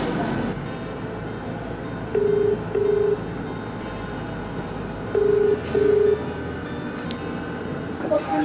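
A telephone number is dialed by touch-tone, with two pairs of short, clear beeps separated by a pause, set over a constant hum of room noise.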